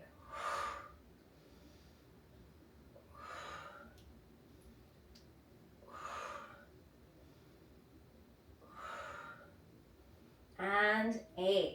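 Slow, rhythmic exhaled breaths during a resistance-ring and band workout, four breathy bursts spaced a few seconds apart, followed by a quick voiced puff at the end; close and fairly soft against a low background.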